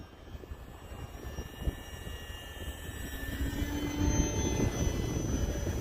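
A Durafly Tundra V2 RC plane, a high-wing STOL model, flies outdoors in windy conditions, its steady electric motor whine gradually growing louder over continuous wind noise, with no talk.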